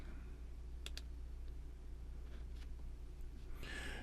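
A few sharp mouse clicks, a close pair and then scattered lighter taps, sound over a steady low hum while TeamViewer software is being installed on a computer.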